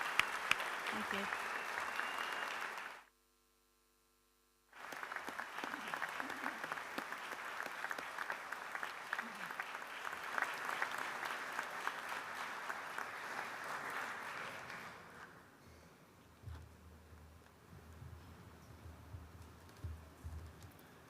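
A graduation ceremony audience gives sustained applause, steady and fairly faint, broken by a brief dropout, then fading into quieter room noise with low murmuring.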